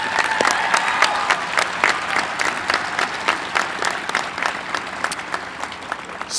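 Sustained audience applause at a university honors convocation commencement ceremony, many hands clapping steadily throughout, fairly loud and continuous with no talking.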